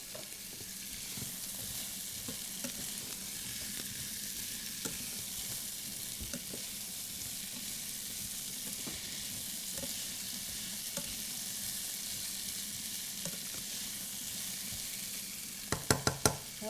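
Vegetables sautéing in a single pot, a steady close hiss and crackle of frying throughout with faint stirring scrapes, and a few sharp knocks of a utensil near the end, no talking.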